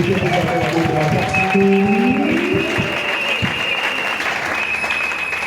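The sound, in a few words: audience applause and cheering in church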